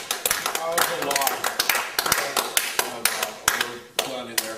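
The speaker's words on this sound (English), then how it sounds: "I really want to give you a round of applause" Applause at a Toastmasters club meeting, scattered claps and taps from a small group, fairly close and uneven, with voices talking over the clapping throughout.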